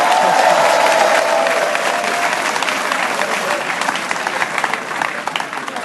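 A large audience at a graduation ceremony breaks into loud, sustained applause with some crowd noise, and the clapping tapers slightly toward the end.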